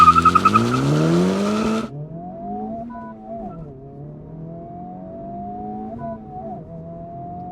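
A Honda Civic Type R in R mode launches hard off the line: a loud, close engine rev climbs through the gears, then settles into a steady, sustained acceleration drone with brief shift dips.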